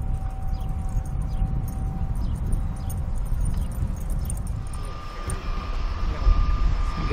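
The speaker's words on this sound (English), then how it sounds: "Get the seaplane taken off out of the harbor." A seaplane takes off from a harbor beside an RV park with a harbor view, its engine a steady low drone that builds in the distance under broadband ambient noise, with a rising tone toward the end.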